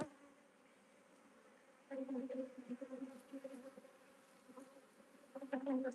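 Honeybees from a caught swarm hum in a steady close drone, swelling louder in bursts around the middle and again near the end.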